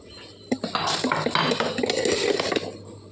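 A lid clatters onto a pan of stuffed okra and potatoes: a quick burst of metallic clinks and knocks, close and moderately loud, with no voices.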